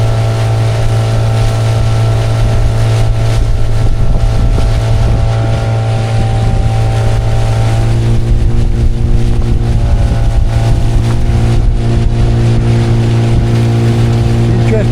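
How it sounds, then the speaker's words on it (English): A Honwave T38 inflatable boat's outboard engine runs steadily on the river Dart, a loud continuous drone whose tone shifts slightly over time, with wind buffeting the microphone throughout. "Different tones the engine makes."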